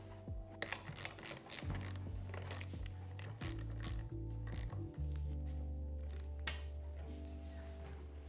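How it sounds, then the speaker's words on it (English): Handlebars on a Yamaha PW50 are tightened with a ratchet, giving repeated mechanical clicks and rasping pawl bursts, with metallic clunks and a steady low hum underneath, close and moderately loud, no talking. "from here, I'm gonna tighten down the handlebars"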